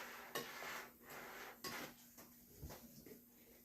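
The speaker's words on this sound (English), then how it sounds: "Now I'm going to mix this a little bit." Dry ingredients for an eggless carrot cake being stirred in a bowl, quiet scraping and a few sharper clinks of a utensil against the bowl, close and soft, with no speech.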